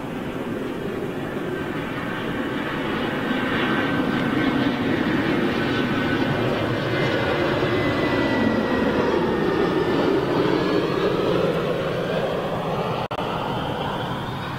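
Ryanair jet airliner flying overhead near Lisbon, a steady broadband engine roar that swells and slowly shifts in pitch as it passes, fairly loud and continuous throughout with no talking.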